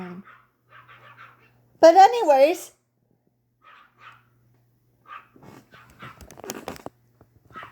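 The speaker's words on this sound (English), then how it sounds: "The dogs are being annoying." Dogs let out a short, wavering whimpering cry partway through, set against a person talking intermittently.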